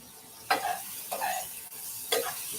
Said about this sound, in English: I'm going to keep stirring this up.